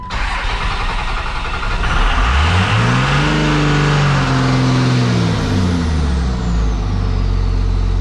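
A loud 24-valve 5.9L Cummins diesel engine revs up hard toward redline, pitch climbing and falling through a roaring surge, then settling back to a rumbling idle.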